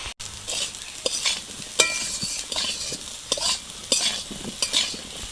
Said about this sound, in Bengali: কচুটাও ভাজা হয়ে গেছে, নামিয়ে নেব।